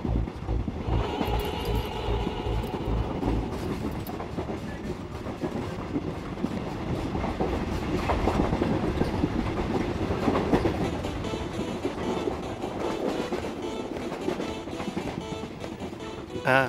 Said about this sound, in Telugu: నెక్లెస్ రోడ్లో లోకల్ ట్రైన్ ఎక్కాడు, అది ఖైరతాబాద్లో ఆగుతుంది